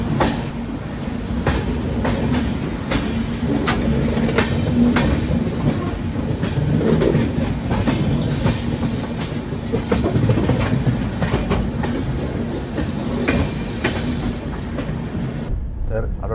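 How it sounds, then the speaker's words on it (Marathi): A Mandovi Express passenger train runs on rails from Mumbai toward Goa, giving a steady, loud rolling rumble with repeated clickety-clack wheel beats that continue without a break. "आणि आपली ट्रेन बरोबर रवाना झाली 7:10"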